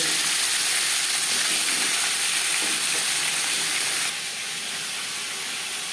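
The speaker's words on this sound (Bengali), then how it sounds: "একটা সাইড ভাজা হয়ে গেলে অপর সাইজটা উল্টে দেবে" Katla fish belly pieces frying in oil in a pan, a continuous hissing sizzle that holds steady throughout and drops slightly in level near the end, with no voices.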